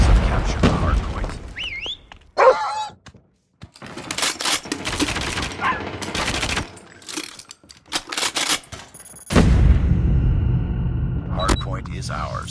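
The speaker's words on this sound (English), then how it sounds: "Predator missile inbound." Predator missile strike in Call of Duty Mobile during a hardpoint match on Hovec Sawmill, with bursts of gunfire and heavy booms, then a loud sustained rumbling blast near the end, mixed with in-game voice callouts.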